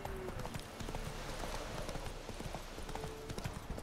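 Roach, Geralt's horse in The Witcher 3, gallops with a steady run of clip-clopping hoofbeats, close and fairly loud over a constant background wash, with no voices.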